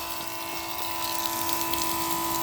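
A booster pump feeding a power washer runs steadily, pushing water with a constant electric whine and hum that holds even and fairly loud throughout, with no talking.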